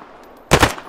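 A short, loud machine gun burst in the video game Deadside, a rapid cluster of close shots starting abruptly after a half-second of quiet.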